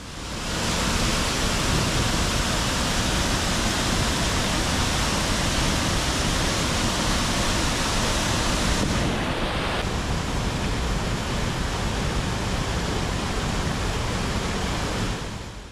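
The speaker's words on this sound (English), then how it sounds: "Pecca Falls is actually a collection of five waterfalls which drop 30 metres over the slate and sandstone." Pecca Falls, five waterfalls dropping 30 metres over slate and sandstone on the River Twiss, roars as a loud, dense, unbroken rush of water with no voices.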